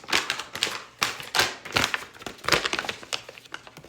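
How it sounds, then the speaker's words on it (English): A sheet of paper is handled quickly, giving bursts of crinkling and crackling with sharp snappy transients spread across several seconds, close and fairly loud with no talk. "Uncrumple your piece of paper,"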